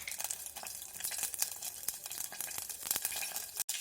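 Cumin seeds crackle and sizzle in hot oil as a tempering for spinach dal, a faint, continuous spitting hiss with small bursts and stirring scrapes, close by and with no talking.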